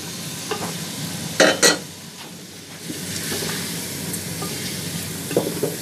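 Chicken sizzles and crackles steadily in a pan with garlic, turmeric and spices, with a couple of louder scraping stirs early on and softer stirring later.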